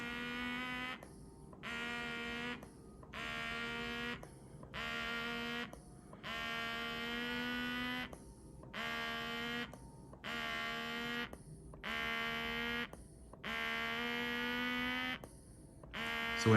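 An Achedaway electric cupping massager pulls suction on skin, its pump buzzing in regular bursts of about a second each, split by short pauses and repeated evenly for the whole stretch.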